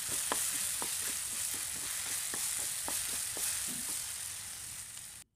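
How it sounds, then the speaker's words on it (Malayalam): Chopped ripe plantain sautéing in melted ghee in a non-stick pan, a steady close sizzle and frying hiss with scattered soft stirring clicks throughout, no talk. "നെയ്യൊന്ന് മെൽറ്റായിട്ട് വന്നാൽ ഇനി ഇതിലേക്ക് അരിഞ്ഞു വെച്ചിട്ടുള്ള നേന്ത്രപ്പഴം ചേർത്തിട്ട് നന്നായിട്ടൊന്ന് വഴറ്റിയെടുക്കണം"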